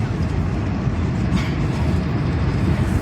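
A high-speed bullet train on the Makkah to Madinah line rushes past at speed, a dense, continuous rumble and roar that stays loud and even for the whole stretch.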